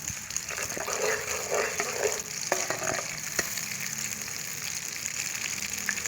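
Chana dal and meat fry in ghee over a normal flame until lightly browned, giving a steady, close sizzle with a few stirring scrapes and soft knocks early on, and no talk.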